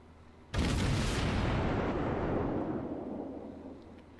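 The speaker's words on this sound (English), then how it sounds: "And that's a nice looking salvo" A cruiser's main battery salvo in World of Warships, a Russian cruiser Murmansk firing together as one loud, sudden booming blast that rolls and slowly fades over several seconds, with no voices.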